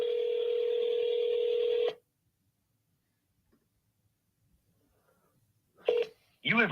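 A telephone dialing a call during a real estate cold-calling session: a steady dial tone for about two seconds, then silence, followed by short ringing or dialing bursts near the end.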